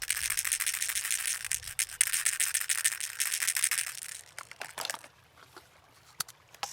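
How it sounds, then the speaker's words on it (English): A shaker rattles steadily in a dense, hissy wash, then trails off into a few scattered shakes and quieter gaps toward the end. "Another shaker with a beautiful sound."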